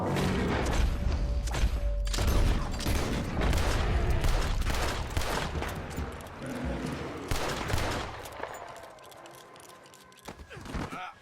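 Dense, rapid gunfire from Red Dead Redemption 2 cracks and booms almost without pause, a loud, close fusillade of overlapping shots that thins out and grows sparser toward the end.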